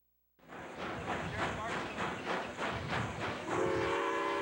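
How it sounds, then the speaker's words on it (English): Passenger train rolling along with steady rhythmic rumble and rattling clatter, a sustained whistle tone sounding near the end, loud and continuous. "The train shook for another whole day of travel, and whistles sounded at stations"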